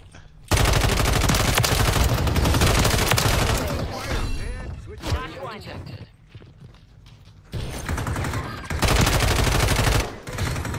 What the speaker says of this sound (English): I saw the gunfire.